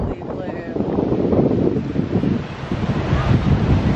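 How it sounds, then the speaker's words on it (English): Rough ocean waves crash and churn in a steady broadband roar, driven by strong wind buffeting the microphone throughout; a faint voice is also present. "Look at those waves though."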